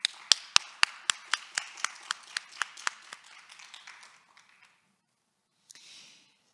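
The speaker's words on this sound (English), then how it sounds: "please join me in welcoming them and giving them a big round of applause" An audience applauds to welcome a panel of guests at a university entrepreneur career week event, a burst of a dozen or so sharp, distinct claps that thins out and fades, then a brief scatter of a few more near the end.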